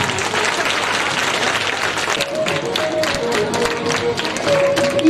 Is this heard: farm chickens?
no